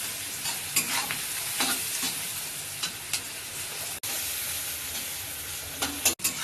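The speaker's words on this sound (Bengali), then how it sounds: "পেঁয়াজটি ভালো করে লাল লাল করে ভেজে নেব।" Onions frying in a pan until browned, a moderate continuous sizzle with occasional stirring scrapes and a couple of brief sharp breaks where the sound cuts out.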